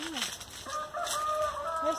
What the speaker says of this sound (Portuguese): Esse galo daqui não tem hora pra ele cantar, não.